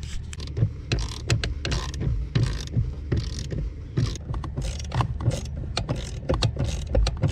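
A ratchet wrench clicks in quick repeated bursts while the brake booster on a Golf 3 VR5 is bolted up under the dash, close metallic ratcheting with brief pauses and small knocks.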